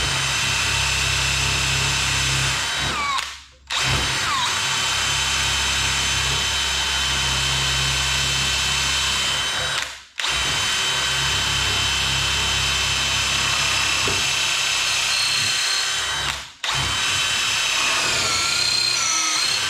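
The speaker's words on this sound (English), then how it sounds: "I think I hit a tough spot in this southern yellow pine," A power drill runs steadily and loudly, boring into southern yellow pine, with three brief pauses where the motor stops before starting again.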